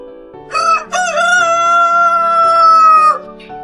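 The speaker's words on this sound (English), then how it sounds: "This is a rooster," A rooster crows one long, clear cock-a-doodle-doo, loud and close, with a short rising start, a sustained middle and a falling tail, alone over a faint background.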